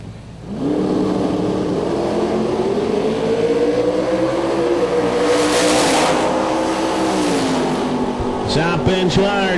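Pro Street 2002 Camaro with a 632 cubic inch engine drag racing a 1972 Corvette with a 572 cubic inch engine, a loud sustained roar rising in pitch as they launch and run the strip, fading with crowd noise at the end.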